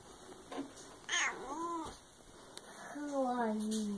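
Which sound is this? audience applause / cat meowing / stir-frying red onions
cat meowing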